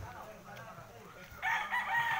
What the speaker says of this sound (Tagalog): marami siyang mga manok dito